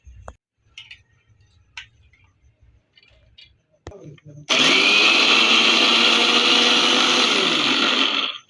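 A mixer grinder coarsely grinds soaked chana dal, starting abruptly with a loud, steady high whir that runs for about four seconds and then cuts off. Faint soft handling sounds come before it.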